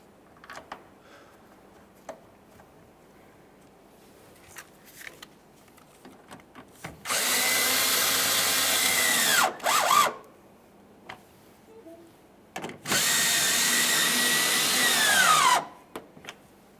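A power drill driving two bolts into a trim panel of a 2015-2020 Ford F-150 during headlight replacement, two sustained whirring bursts of several seconds each, close and loud, separated by quiet gaps with light clicks.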